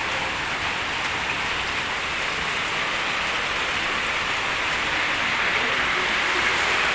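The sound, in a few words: heavy rain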